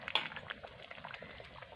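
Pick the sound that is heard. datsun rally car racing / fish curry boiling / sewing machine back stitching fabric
fish curry boiling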